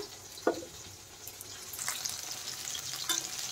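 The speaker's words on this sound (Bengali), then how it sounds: "মাছগুলো এক সাইড ভাজা হয়ে গেছে," Pieces of katla fish fry in oil in a pan, giving a steady hissing sizzle with occasional louder crackles and the scrape of turning, heard close and without talk.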